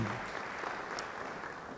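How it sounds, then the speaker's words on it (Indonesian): A church congregation applauding steadily, a dense wash of clapping that stays even throughout with no voices over it. "Yang mau beri tepuk tangan bagi dia."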